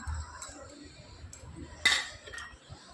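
A spoon clinks against a bowl while two spoonfuls of curd are added to an aloe vera juice hair mixture, one sharp, close metallic clink standing out over faint handling noise.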